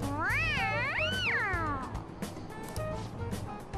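A cartoonish cat meows twice in Persona 5, long, sliding, rising-and-falling cries, followed by softer chirpy game sounds over a steady electronic background.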